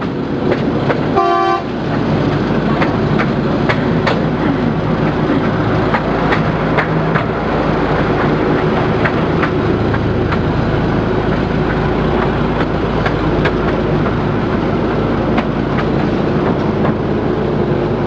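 A train on the Driving Creek Railway in Coromandel, New Zealand, rumbles steadily along the rails with faint rhythmic clatter, and a short horn toot sounds near the start.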